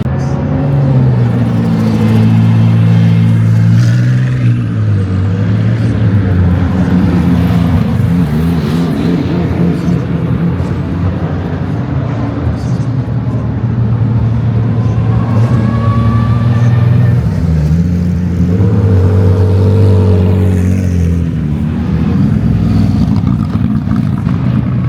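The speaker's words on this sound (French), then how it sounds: "Les voitures commencent à partir des stands." GT3 race cars pull out of the pits at a major French GT race, loud engine drone rising and falling as several cars rev and pass close by, continuous throughout with no clear speech.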